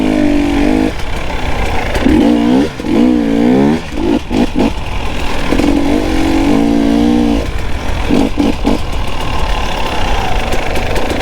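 A KTM 300 XC two-stroke dirt bike engine revs loudly and continuously, with repeated rising and falling blips of the throttle close by and no talking.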